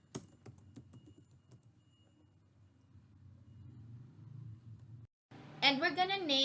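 Keys clatter on a computer keyboard in a quiet room at first, quick irregular taps over a low rumble, then a louder steady hum and a short burst of other noise near the end.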